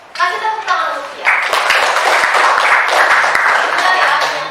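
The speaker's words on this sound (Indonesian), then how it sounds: "Kasih tepuk tangan untuk Via" In a classroom, children clap for a classmate named Via: a voice speaks briefly, then a steady burst of close, sharp hand-claps runs to the end.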